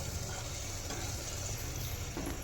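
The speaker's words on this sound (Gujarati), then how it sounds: "તો ભાઈ આવો વઘાર કરે છે" Onion and dry spices sizzle in hot oil for a vaghar tempering, a steady close-up frying hiss that runs unbroken through the whole short stretch with no talking.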